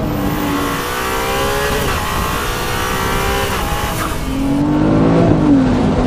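A Ferrari 296 GTS engine revs under load, a loud sustained roar whose pitch climbs and falls through several sweeps, heard from inside the cabin.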